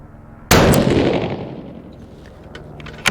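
A single loud, close 6 Creedmoor rifle shot firing a Berger 109 bullet over Varget powder, with a sharp blast that decays over a second or two, followed by faint clicks of the action.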